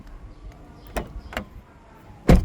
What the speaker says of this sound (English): Open and close the doors.